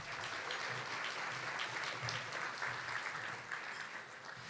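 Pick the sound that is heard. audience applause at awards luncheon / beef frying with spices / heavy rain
audience applause at awards luncheon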